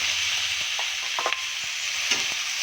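Shrimp sizzling in a pan with garlic and onion, a steady bright frying hiss broken by a few soft spatula scrapes and taps as it is sautéed, close and without talk.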